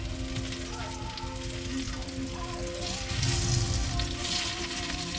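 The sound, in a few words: eggplant omelette (tortang talong) frying and bubbling in pan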